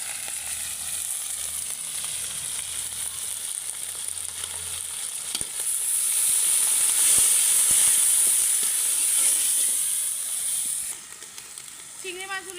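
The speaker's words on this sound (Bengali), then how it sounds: "চিংড়ি মাছগুলো একটু ভেজে নিলাম।" Small shrimp fry in a pan over already-fried onion, chilli and garlic, village-style cooking, a bright steady sizzle that swells in the middle and then eases off.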